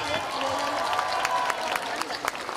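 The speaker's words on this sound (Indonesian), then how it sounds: "Berikan tepuk tangan." A crowd at a gubernatorial election campaign rally claps and cheers in scattered bursts while a voice carries over the noise, the applause fairly close and lively.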